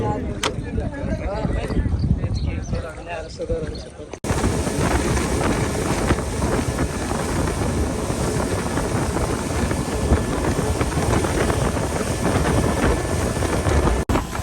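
A boat crossing the Meghna river toward north Hatiya in Noakhali, with loud, steady wind roaring and buffeting the microphone over a constant engine-like rumble. A quieter, busier stretch comes first, then the wind takes over abruptly and continues unbroken.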